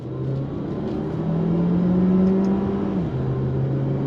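A 2024 Alfa Romeo Tonale SUV accelerates on throttle with a steady droning engine note that climbs in pitch, holds, then drops briefly at a gear change before rising again. It is heard from inside the cabin with no talking.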